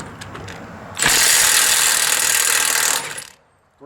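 A Milwaukee 2864 3/4-inch cordless impact wrench hammers off a lug nut, a loud, close burst of dense rattling impacts lasting about two seconds, with faint clicks before it and a quiet pause after.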